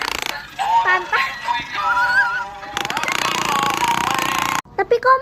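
A battery-powered toy rattles and buzzes noisily as it moves, a loud, harsh, grinding mechanical clatter that stops briefly and restarts, with a short burst of movement at the end.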